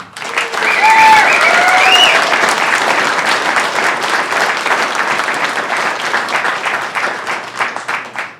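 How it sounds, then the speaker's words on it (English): A wedding crowd applauds the couple: loud, sustained clapping from many hands, with a few whoops and cheers near the start, fading toward the end. "give them a round of applause"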